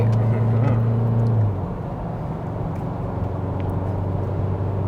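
Isuzu 2.2 Ddi MAXFORCE pickup engine pulling hard at high speed, a steady loud diesel drone with road and wind roar, its low tone dropping slightly after the first second and a half.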